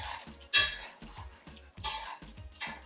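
Stewed lamb and pumpkin rice being stirred in a large vessel, with a spoon scraping and clinking against the pot in a steady, irregular rhythm of light knocks, close and moderately quiet.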